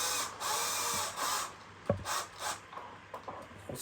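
Short bursts of a power driver screwing fittings into soft timber on a rocking horse saddle, whirring in quick pulses with small clicks and knocks between, close and moderately loud.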